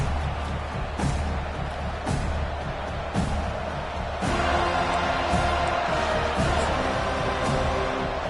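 Stadium crowd in an American football video game, a steady loud roar rising slightly as play resumes after a touchdown drive, with thumps and a game commentator's voice talking over it.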